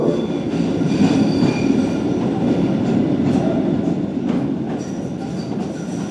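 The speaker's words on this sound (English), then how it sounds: "the next Blue Line train to Wonderland is now arriving" A Boston MBTA Blue Line subway train pulls into the station, with a loud, continuous rumble of wheels and rail clatter and faint squeals running throughout, heard close and with no voices.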